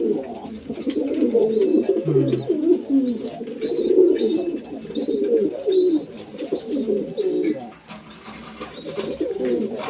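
Pigeons coo in a loft in soft, repeated throaty rolls, close and continuous, with a person speaking quietly over them.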